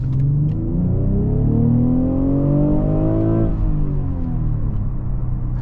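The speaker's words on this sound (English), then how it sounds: "Let's just do a quick acceleration again." A 2023 BMW X5 40i SUV accelerates hard from a stop, its engine note climbing through rising rumbling harmonics inside the cabin before easing off partway through, steady and loud with no talk.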